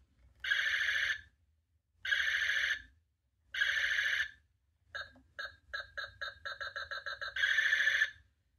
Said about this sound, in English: So he does feature two laser sounds.